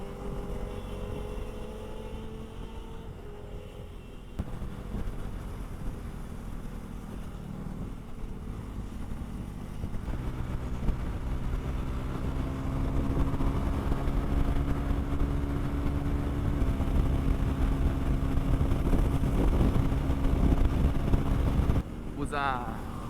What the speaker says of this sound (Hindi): क्या है साउंड है डेटोना का भाई।